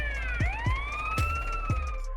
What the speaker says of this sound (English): hook that same car to a tractor and the siren comes back on